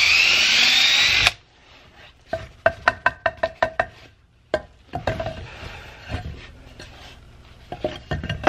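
A power drill whines loudly at first, then cuts off, followed by a quick series of sharp knocks and taps with scattered clatter.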